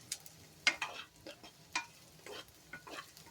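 Food frying in a pan while it turns red, soft stirring scrapes and taps of a spoon over a faint sizzle, quiet and close.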